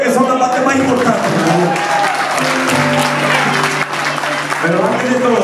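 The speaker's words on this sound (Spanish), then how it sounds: "Dense un aplauso a ustedes" Loud crowd applause and cheering at a Hard Rock Café concert, close and sustained, with voices and tonal sounds mixed in over the clapping throughout.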